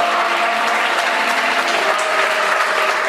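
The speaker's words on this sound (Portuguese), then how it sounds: "dê uma salva de palmas bem forte, que exalta o nome do Senhor" A church audience at a miracle crusade applauds loudly and steadily, a dense wash of many hands clapping at once without a break.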